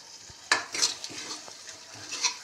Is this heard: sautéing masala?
yes